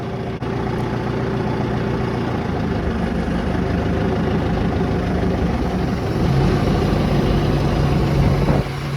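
A New Holland tractor's diesel engine idles steadily and loudly up close, a constant low rumble with a slight rise in level toward the end and no talking.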